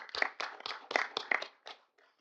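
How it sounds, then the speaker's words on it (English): A small group at a city council meeting claps briefly, quick uneven hand claps close by that build and then fade out after about two seconds. "I don't know if we're allowed to give a round of applause, but I feel like it would be a good thing to do."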